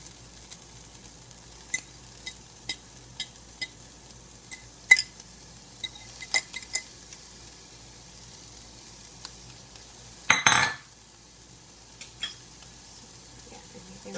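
Onions and peppers frying in a pan, a faint steady sizzle under scattered light clinks and taps of a utensil, with one louder scraping burst of stirring partway through.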